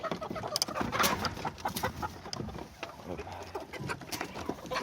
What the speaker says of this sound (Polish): Kurki wychodzą na wybieg z jednej strony.